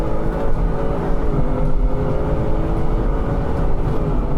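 A supercharged Ford F-150 race truck accelerates hard, its engine a steady, heavy roar with a deep rumble and a dense low drone held at full throttle throughout, loud and close.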